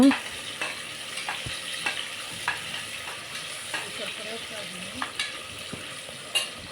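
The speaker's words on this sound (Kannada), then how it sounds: "ಆ ಈರುಳ್ಳಿನೂ ಕೂಡ ಇದಕ್ಕೆ ಸೇರಿಸ್ಕೊಂಡು ಸ್ವಲ್ಪ ಈರುಳ್ಳಿ ಬಣ್ಣ ಚೇಂಜ್ ಆಗೋವರೆಗೂ ನೀಟಾಗಿ ಫ್ರೈ ಮಾಡ್ಕೊತಾ ಹೋಗೋಣ" Chopped onions frying in a pan for fenugreek (menthya) bath, a steady sizzle with scraping stirs tapping at intervals, close and moderately loud, no voices.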